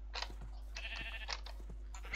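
Sheep in a video game bleat several times in quick succession, short nasal cries close and clear over a low steady hum, with no talking.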